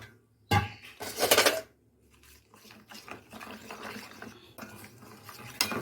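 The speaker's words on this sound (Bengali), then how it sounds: "এই যে মাঞ্চুরিয়ান মশলার প্যাকেটটা আছে, এইটা জল দিয়ে একটু গুলে নেব" A Manchurian spice mix being stirred with water gives a few loud, close clattering scrapes of a spoon in a bowl, then quieter intermittent stirring and clinks.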